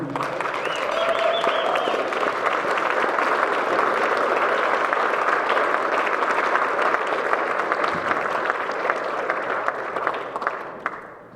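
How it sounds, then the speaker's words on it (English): Sustained applause from a roomful of people, a dense, even roar of clapping that carries on for several seconds before tapering off. "Everyone please rise and give a round of applause for our newest Rotarian, Jerry Brown."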